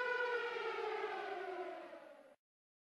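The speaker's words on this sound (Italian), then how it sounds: "Era la sirena d'avvertimento." A loud civil-defense-style warning siren in Minecraft wails steadily with a slowly falling pitch, then cuts off abruptly before the end.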